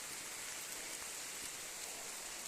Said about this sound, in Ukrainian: дощик іде гарний